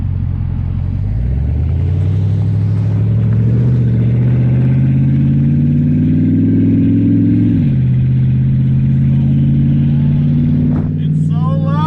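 A Dodge Daytona with its exhaust cut out in the engine bay revs very loud and close, its deep rumbling note climbing steadily then dropping back to a rough, heavy idle.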